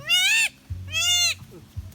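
Large goat bleating: two loud, wavering calls close by, separated by a short pause, with low rumbling noise underneath and a faint extra sound at the end.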